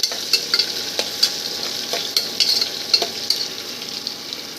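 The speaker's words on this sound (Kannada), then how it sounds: "ಇದು ಹಾಕಿ ಇದನ್ನೊಂದು ಸ್ವಲ್ಪ ಹುರಿಬೇಕು ಎಣ್ಣೆ ಒಳಗೆ" Lentils, along with curry leaves, fry in hot oil in a home pan while being stirred for shavige uppittu. There is a steady close sizzle with scattered sharp crackles and the scrape of stirring, and no voices.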